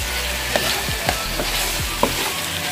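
Food sizzles steadily in a frying pan with ground black pepper as it is stirred and sautéed, several distinct scraping clicks of the utensil against the pan breaking through the constant close hiss.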